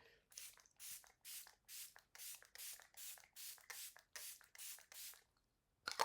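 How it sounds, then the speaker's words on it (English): A rapid series of about a dozen short, airy spritzes from a pump bottle of ColourPop Pretty Fresh setting spray, evenly spaced and close to the microphone. "I'm going to use my ColourPop setting spray"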